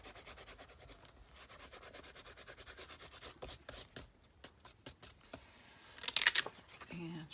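Paper being rubbed by hand to work excess Fabri-Tac glue out of a flower junk journal pocket: steady, close scratchy strokes in quick repetition, then a brief sharper crinkle near the end.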